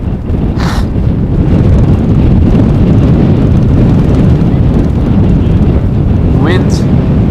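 Strong crosswind at Amsterdam Schiphol airport roars loudly and steadily into the microphone, a dense low buffeting rush that never lets up, with a couple of faint distant whooshes rising above it.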